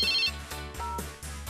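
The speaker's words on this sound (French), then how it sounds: "C'est ton portable, Bettina." A mobile phone ringtone plays as a series of bright, repeated electronic tones in a steady pattern, close and clear, with no talk over it.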